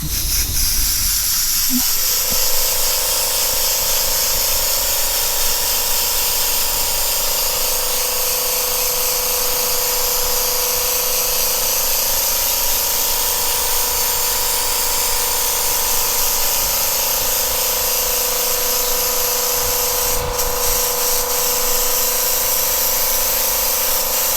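An airbrush sprays a solid gold paint fill for a graffiti-style gold chain design, giving a loud, steady, unbroken hiss that runs close-up the whole time with no talking.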